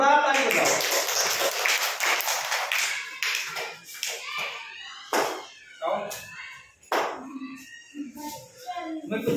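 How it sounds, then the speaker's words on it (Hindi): Children clapping hands loudly in a classroom, a burst of applause at first giving way to scattered claps and taps, with voices talking throughout. "जोरदार ताली बजाओ।"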